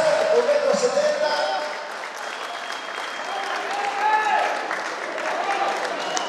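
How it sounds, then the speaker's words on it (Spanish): An audience at a beauty pageant applauds a contestant in a banquet hall, a moderate round of clapping while a presenter keeps talking over it on the microphone. "a ver, aplausos"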